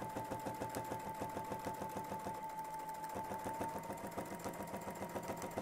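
Quilting sewing machine stitching a border design, a steady rapid needle chatter with an even mechanical hum, close and continuous at moderate volume, briefly changing pace midway, no talk.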